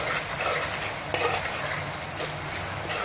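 Mutton sizzles in a pan as it is browned, a steady crackling fry with a few sharp stirring scrapes, close and alone.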